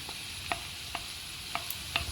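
Onions sautéing in a pan with garlic, ginger, green chillies and curry leaves, stirred with a spoon: a soft, faint sizzle broken by a few distinct scraping taps at an irregular pace, no talking.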